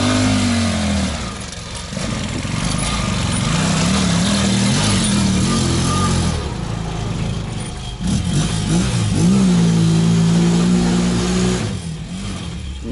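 A motor tricycle drives through a vegetable garden where potatoes are being dug, its mid-pitched engine droning steadily and revving up and down over about thirteen seconds, loud and close with no talk.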